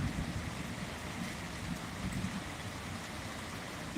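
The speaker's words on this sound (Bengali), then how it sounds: "বৃষ্টি ভেজা সুন্দর পরিবেশ" Rain falls outdoors in a steady, soft wash of noise with low rumbling underneath, continuous and fairly distant, with no voices over it.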